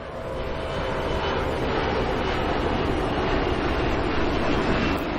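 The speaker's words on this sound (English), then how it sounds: "Breaking through a low cloud layer, here comes shuttle carrier aircraft." A shuttle carrier aircraft, a modified jumbo jet, flies overhead carrying Space Shuttle Endeavour on its final ferry flight departing Kennedy Space Center, a steady loud broadband engine roar that holds throughout with no talk.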